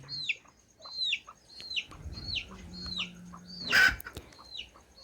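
Backyard chickens cluck softly in the yard alongside a series of repeated sharp bird chirps, with a brief loud rustle or clatter near the end.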